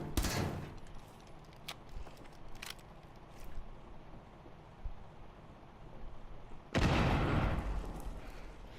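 Video game gunfire during a hostage mission: bursts of automatic fire and sharp shots crackle at moderate distance, with a loud sustained burst near the end, and no voices.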